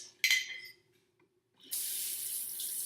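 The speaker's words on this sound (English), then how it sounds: "once that's dissolved, I'm going to add my cold water to it." Cold tap water gushes steadily into a container for water kefir, a loud continuous splashing stream lasting over a second after a brief earlier burst of running water, with no talk.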